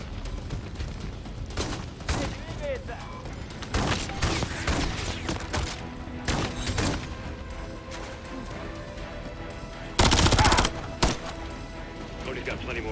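Machine gun fire in Call of Duty: Modern Warfare 3, heard as repeated loud bursts of automatic shots and a sharp crash near the ten-second mark, mixed with other battle noise and some talk.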